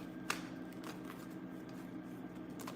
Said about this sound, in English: I'm gonna pull cards.